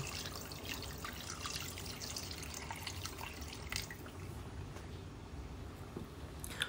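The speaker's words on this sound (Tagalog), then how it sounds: "Tapos tutubigan ko lang yan" Soft, steady trickle of water being poured into a cooking pot of chicken curry, quiet and continuous with a few faint drips and knocks.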